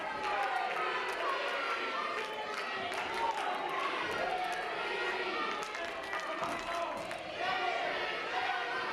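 Crowd noise at a wrestling match, a steady wash of cheering and chatter that holds at one level throughout, with an announcer talking over it.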